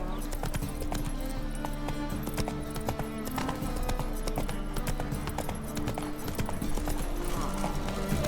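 A horse gallops in the video game The Witcher 3: Wild Hunt, with steady rapid hoofbeats and a busy game soundtrack over it, while someone talks.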